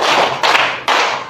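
A classroom of standing students claps in unison three times on command, each sharp, loud clap ringing briefly into the room before the next.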